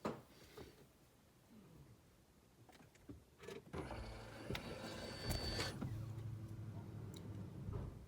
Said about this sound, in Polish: Włączę teraz stacyjkę, zobaczymy, czy, czy będzie słychać pompę.